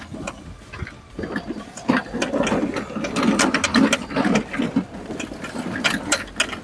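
An Afikim S3 heavy duty mobility scooter with golf tires rolls over grass, a mid-pitched motor whir mixed with bumpy rattling and rustling that rises and falls steadily, close up with no talking.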